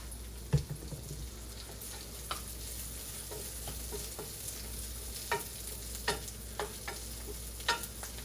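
Onions and seasoned meat frying in oil while being stirred: a soft, steady sizzle runs throughout, broken by quick scraping stirs of the spoon at irregular intervals, with no voices.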